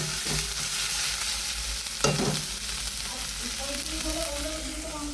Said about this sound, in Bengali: আর এখানে আছে আমার ডিম ভাজা।